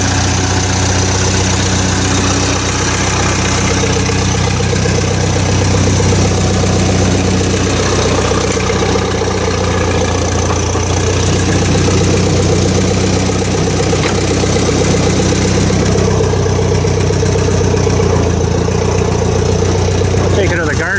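A Massey Ferguson 135 tractor engine runs loud and close after a carburetor rebuild, a steady throbbing idle with a knocking rhythm that holds for the whole stretch.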